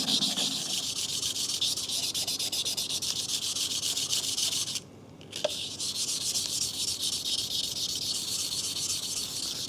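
A Bark River CPM-D2 Highland Special knife blade is rubbed steadily on 240 grit sandpaper, giving a continuous close, hissy scraping with one short pause midway.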